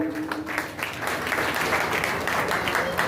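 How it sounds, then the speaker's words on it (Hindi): An audience at a Gulabi Gang women's rights gathering applauds in honor of Ambedkar, a continuous wash of many hands clapping at moderate volume, with faint crowd murmur underneath. "तो उनके लिए जोरदार तालियां हो जाए।"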